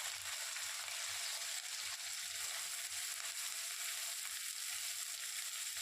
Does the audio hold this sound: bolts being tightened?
no